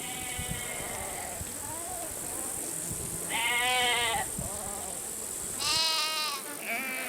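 Sheep and goats grazing together on Central Asian grassland bleat several times, loud wavering calls standing out over a steady background hum and soft rustling.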